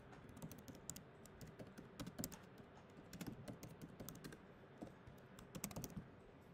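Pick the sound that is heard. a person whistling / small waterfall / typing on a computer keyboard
typing on a computer keyboard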